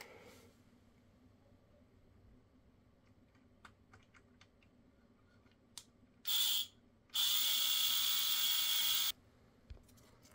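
Screws being driven while PC parts are assembled: scattered faint clicks and handling, then a short burst of a powered screwdriver followed by a longer steady whir, close and loud.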